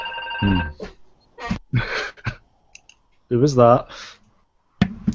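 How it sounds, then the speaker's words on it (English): An office landline telephone rings once, close and fairly loud, then stops as people talk nearby. "Sorry about that phone ringing."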